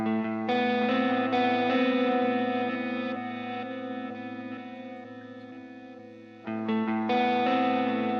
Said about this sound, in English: now I'm going to put the delay and reverb in